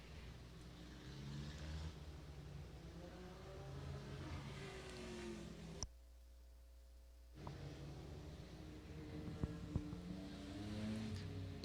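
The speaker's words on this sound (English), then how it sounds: "Drivers not racing yet, just getting a little bit of heat in these open wheel monsters" Open-wheel race cars at Grand Bend Speedway run warm-up laps, their engines a faint, distant droning hum that rises and falls, briefly dropping out before returning.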